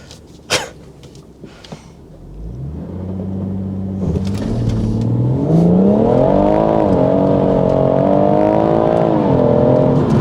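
A BMW M140i launching with its rear wheels spinning: after a couple of short knocks, the engine swells to a loud, steady rising roar that holds close and strong to the end.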